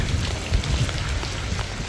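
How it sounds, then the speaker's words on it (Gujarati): Light rain falls steadily in a village setting, a soft continuous patter with a few brief low thumps of nearby drops, close and even throughout with no talking. "અમારે ભાઈ ધીમી ધારે વરસાદ ચાલુ થઈ ગયો હે"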